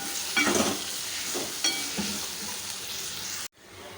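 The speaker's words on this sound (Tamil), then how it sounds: "அந்த எண்ணெயிலே வந்து இந்த தக்காளி பழத்தை நம்ம வந்து நல்லா வதக்கி எடுத்துக்கலாம்" Tomatoes sautéing in hot oil for a chutney made without onion or garlic give a steady sizzle, with a few clinks and scrapes of stirring, before a sudden cut near the end.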